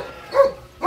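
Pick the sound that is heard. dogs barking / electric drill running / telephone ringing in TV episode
dogs barking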